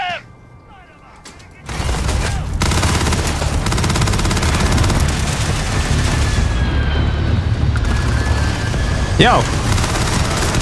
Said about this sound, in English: Alright, I guess I'm shooting him.